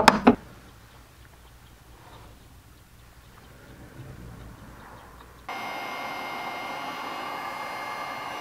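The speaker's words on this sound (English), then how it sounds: "I blasted it with the heat gun and added more while I was blasting it with the heat gun" A heat gun blows onto an aluminum mold filled with deep orange-red material: a brief clatter comes first, then quiet, then a sudden steady rushing hum switches on and holds.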